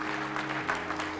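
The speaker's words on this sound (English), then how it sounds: "Give her a round of applause on that." Audience applause at a speaker summit, a brief burst of clapping over a steady low hum, moderately loud and without voices.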